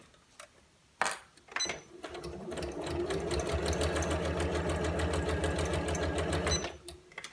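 A sewing machine stitches a tablet case seam back and forth, running steadily for about five seconds after a few handling clicks, then stopping.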